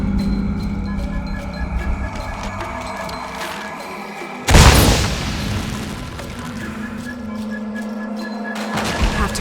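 A single sudden explosion booms out in the video game Shadow of the Tomb Raider on PS5, a loud broadband blast that decays over a couple of seconds amid quieter ambient game sounds.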